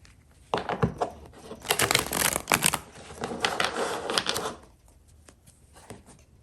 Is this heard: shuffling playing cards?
yes